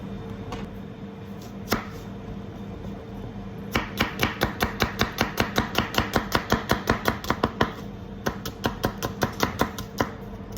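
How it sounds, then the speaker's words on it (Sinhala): A knife slices through 600 grams of onions on a board for Arabic mujaddara rice. After a couple of isolated cuts, a long run of quick, evenly spaced chops follows, close and crisp. "3 ස්ලයිස් වලට තමයි කපා ගන්න යන්නේ. මේක කපා ගමු."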